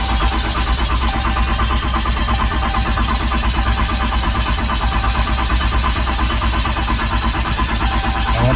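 A Cummins diesel engine in a Ram truck with a Banks Monster Ram intake runs loud and close, a steady rumbling drone with a rough, rapid pulse throughout.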